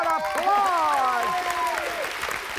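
Studio audience applause on a celebrity reality show, a steady wash of clapping with some cheering, partly under voices talking over it.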